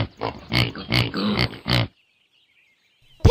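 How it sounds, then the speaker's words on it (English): Repeated pig oinks and grunts from a farm animal, a quick run of about six close, loud calls lasting under two seconds, then silence. "Pig."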